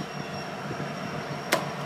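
A Metra commuter train at a station platform gives a steady, moderately loud rumble of rail and wagon noise, with a sharp squeal or clank near the end.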